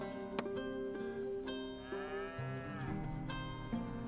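A cow moos in a western-themed video game farm scene, a drawn-out, tonal bellow in the middle of a short stretch against a steady, fairly close background of other farm sounds, with no talking.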